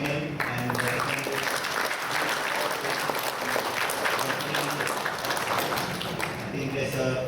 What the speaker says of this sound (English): please give a round of applause to Bapak Nur Anas Jamil and the family